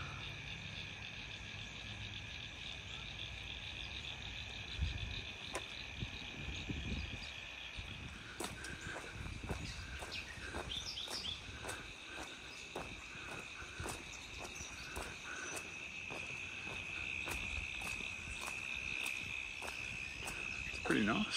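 Frogs call in a creek-side wetland after rain, a steady chorus of trills and croaks with insects, faint and continuous under light footsteps and rustling.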